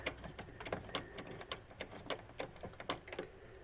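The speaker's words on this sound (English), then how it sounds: "We can take our nut driver," Nut driver turning nuts down on a pop bumper body for a Bally's Special Force pinball machine, giving a quick run of close, light ratcheting clicks and metallic ticks at an uneven rhythm.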